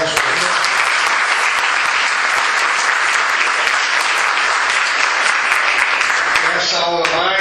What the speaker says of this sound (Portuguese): vamos agradecer o professor Wilson Kahn com a salva de palmas